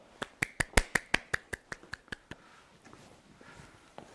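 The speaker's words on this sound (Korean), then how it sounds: "그럼 큰 박수로 황윤회 교수님을 모셔볼까요?" Roughly a dozen sharp, evenly spaced claps ring out close and loud at a brisk steady rhythm, the clapping of a few hands welcoming a professor to a science lecture, then stopping and leaving faint room noise.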